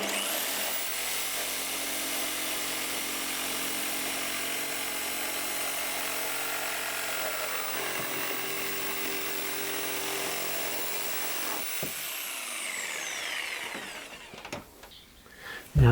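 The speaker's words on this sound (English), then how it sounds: "I'll just use the jigsaw, I think, with that one." Power jigsaw cutting through a wooden workpiece in a home workshop, a steady, loud buzzing cut that runs continuously for about fourteen seconds before winding down and stopping, followed by a few faint knocks.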